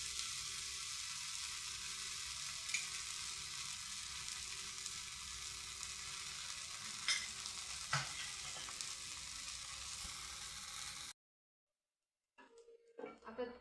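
Sweet potato fasting thalipeeth frying in oil in a pan on a low flame, a steady soft sizzle that fills most of the clip and then cuts off, followed by a few brief clatters.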